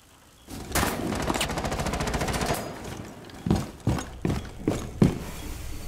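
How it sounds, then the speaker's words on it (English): Rainbow Six Siege gunfire, with a sustained automatic burst followed by four separate loud, sharp single shots spaced about half a second apart. "They're shooting at where they thought I was."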